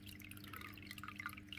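Water trickling and dripping from an aquarium sponge filter, a faint continuous splashy patter under a steady low hum, no voices.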